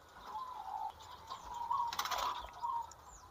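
Caged zebra doves coo softly in a steady, low murmuring rhythm, with a brief flutter of wings and faint chirps nearby in a quiet space.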